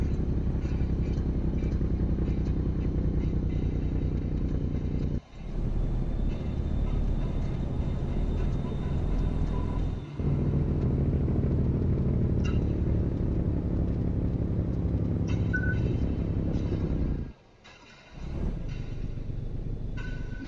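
A video-game Mack B61 truck engine, low and rumbling, drones steadily, with a few brief drops in level as it cuts off and revs back up.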